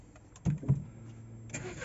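Nissan Qashqai J11 engine cranking and catching, a short starter burst followed by a second pulse, then a low steady idle settling in, heard from inside the car fairly quietly.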